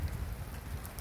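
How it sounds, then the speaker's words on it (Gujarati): Morning rain falls steadily on a flooded road in Canada, a dense, even hiss with low rumbling underneath, quiet and continuous. "કેવો ચાલુ થઈ ગયો છે વરસાદ"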